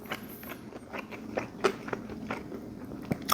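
Close, quiet bites and chewing on a McDonald's McRib pork sandwich with pickles and sauce, soft wet crunches and smacks in an irregular rhythm with no talking.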